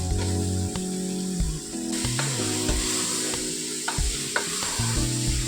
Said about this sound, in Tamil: அதிலே நல்லா ஒரு 2 நிமிஷம் நல்லா வதக்கணும்